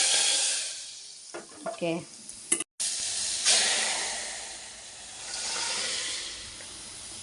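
Loud sizzling hiss as spices and asafoetida drop into hot oil for a snake gourd and lentil sambar, a sharp burst swelling then settling into steady frying, with a brief spoken word partway through.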